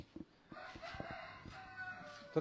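Chickens being raised at a rural Thai home cluck and crow in short bursts over a low background, with a few sharp knocks near the start.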